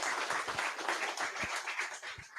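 A room full of listeners at a talk event applauds a speaker, producing a steady, dense wash of clapping that sounds moderately near and even throughout.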